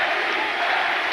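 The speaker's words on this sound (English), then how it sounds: "I think we're going to have some crowd cheering for what's going on" Crowd at a speedrunning relay race event cheering and chanting, a steady dense roar of many voices filling the whole moment without pauses.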